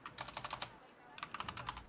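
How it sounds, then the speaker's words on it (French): Fast, forceful typing on a computer keyboard, two dense bursts of clattering keystrokes split by a brief pause, close and fairly quiet. "on t'entend tabasser ton clavier"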